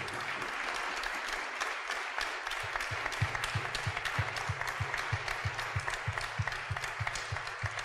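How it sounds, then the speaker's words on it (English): Steady audience applause at the close of a programming conference panel, many hands clapping at an even, moderate volume, with one nearby clapper standing out in a sharp regular rhythm partway through. "Give them a round of applause and to yourself as well."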